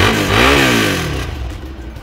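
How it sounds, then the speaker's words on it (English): A Suzuki SV650X motorcycle with its stock exhaust revs up sharply and close by, then the engine note falls back toward idle over a couple of seconds. "Let's hear how this motorcycle sounds really quick with the stock exhaust before we get into it today."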